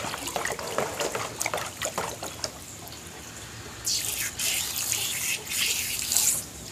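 A liquid mixture being stirred in a few litres of water in a container, soft sloshing and trickling that swells into louder splashing bursts near the end, with no talk over it.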